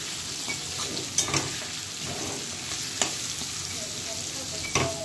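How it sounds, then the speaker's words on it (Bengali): Onions and spices fry in a pan with a steady, gentle sizzle, broken by a few sharp clinks of a spoon stirring, heard close and alone without talk. "মশলাটা ভেজে নিই"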